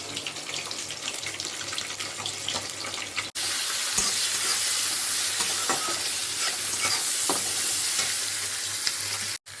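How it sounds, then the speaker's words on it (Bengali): Cumin, garam masala and a bay leaf drop into hot oil, setting off a loud, steady sizzle with crackling bursts that runs almost unbroken, close up and without speech. "দিয়ে দিচ্ছি জিরে গরম মশলা একটা তেজপাতা"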